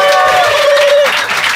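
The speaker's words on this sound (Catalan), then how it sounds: "Ramon Pujol, un aplaudiment." A studio audience applauds a guest, Ramon Pujol, with loud, close clapping and a steady crowd wash. A tonal whistle or feedback line sounds over it for about a second.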